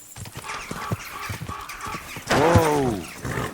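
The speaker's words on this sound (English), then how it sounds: "Damn, this horse is so much faster." A horse gallops with quick, close hoofbeats in the video game Kingdom Come: Deliverance II, then lets out a loud whinny near the end before the hoofbeats resume.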